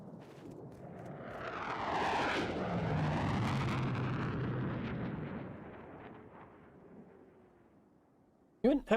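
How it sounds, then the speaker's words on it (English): In a naval video game, a jet engine roar swells into a loud, broad sweep, holds, then slowly fades away. A few sharp clicks follow at the very end. "You wouldn't happen to know how to turn off the jet? It's quite loud."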